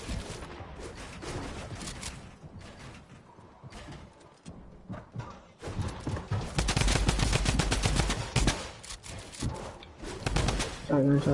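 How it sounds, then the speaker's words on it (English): Shotgun blasts and other gunfire crack through an arena-style shooting game, a rapid, dense string of loud shots that grows heavier in the second half, with a voice speaking between them. "Shotgun."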